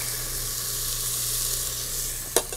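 Onion sautéing with butter and garlic in a restaurant kitchen pan for risotto gives a steady, close sizzling hiss with a low hum beneath, then a brief sharp clatter near the end.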